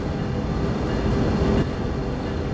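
Freight train on the Cajon Pass in Train Sim World 3, slowing under automatic and dynamic braking: a steady, loud low rumble of rolling wagons with a dense rushing roar, swelling briefly midway.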